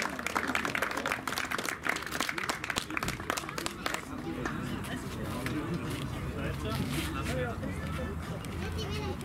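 Applause at a motor race award ceremony at Biķernieku circuit, a burst of many hands clapping loudly for a few seconds, then fading into crowd hubbub while an announcer speaks.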